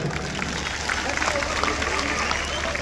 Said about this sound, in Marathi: यांच्यासाठी एक मोठा टाळ्यांचा गडगडाट उठवतो।